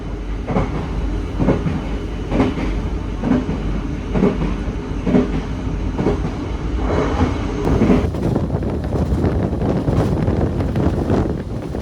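The Gaya Baru Malam Selatan passenger train runs on the rails near Cirebon at night, with loud rhythmic clickety-clack of the wheels over rail joints, a steady rumble and wind noise heard from on board.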